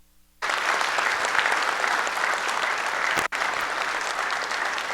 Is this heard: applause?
yes